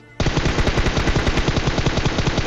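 Rapid automatic gunfire from a battle royale video game, a loud continuous burst of closely spaced shots that starts abruptly after a brief quiet moment and carries on steadily to the end.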